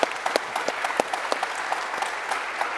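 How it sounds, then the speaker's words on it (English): Audience applause for panelists at a seaweed coalition annual meeting in Paris, close and lively clapping with distinct individual claps standing out over a steady crowd patter throughout. "a huge round of applause to our panelists"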